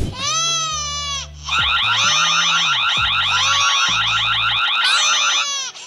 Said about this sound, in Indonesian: gue bakalan setel video bayi nangis